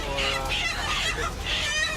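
Several chickens cluck and chatter in short repeated bursts during vaccination, close and fairly loud over a low steady hum.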